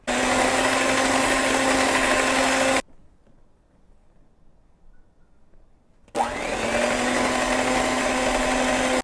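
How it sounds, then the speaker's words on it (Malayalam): Electric hand mixer blending dry ingredients into wet batter for a vanilla rum bundt cake, a loud steady motor whine that stops for a few seconds of quiet and then starts up again. "സ്ലോ ആയിട്ട് നമ്മുടെ ഡ്രൈ ഇൻഗ്രീഡിയൻസ് ഈ വെറ്റ് ഇൻഗ്രീഡിയൻസിൻ്റെ അകത്തോട്ട് നമുക്ക് മിക്സ് ചെയ്ത് എടുക്കാം."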